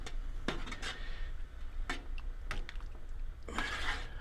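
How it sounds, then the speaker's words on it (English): A spoon scrapes and knocks against a pot while thick, porridge-like corn flake mash for homebrewing is stirred, producing intermittent clinks and scrapes close by over a low background hum. "And I'm going to stir this real quick."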